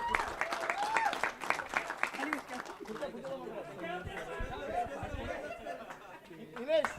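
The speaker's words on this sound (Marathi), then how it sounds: "नितीन पाटील साठी टाळ्या होऊन जाऊ द्या." Applause and clapping from a crowd at a rural premier league cricket prize distribution for Nitin Patil, man of the series, steady through the clip with chatter and voices mixed in, swelling briefly again at the end.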